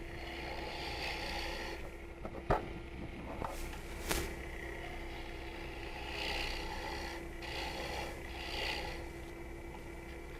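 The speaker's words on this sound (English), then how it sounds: "So I'm doing a little scrape on the side" A wood lathe tool scraping the side of a bowl on a twice-turned bowl, a steady rasping hiss over a constant motor hum, with a few sharp ticks and gentle swells as the cut shifts.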